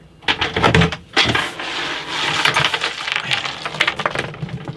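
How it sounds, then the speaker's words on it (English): Clunks, knocks and light rattles come close up as cupboard doors are unhinged and moved off, with irregular bursts of wooden bumps and small metallic clinks between short pauses. "I'll take the hinges off and get the doors out of the way."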